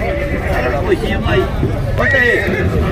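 At a horse market in Caruaru, Pernambuco, a horse whinnies loudly and repeatedly up close over a busy crowd murmur, while someone speaks briefly nearby.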